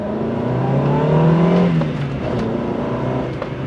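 A Rover 216i's engine revs while driving, rising in pitch and loudness then easing off, with a steady drone heard close from inside the car.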